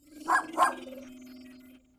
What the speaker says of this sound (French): Un petit chien!